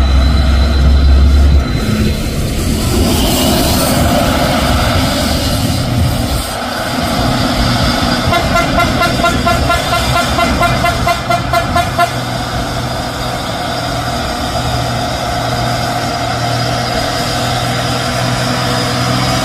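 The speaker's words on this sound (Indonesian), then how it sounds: "Truk Fuso 6x2 L 220 PS." Mitsubishi Fuso 6x2 truck with a 220 PS engine climbing a steep hill, a loud, close, sustained diesel drone with strong low rumble, a brief horn-like toot near the start and steady strain throughout.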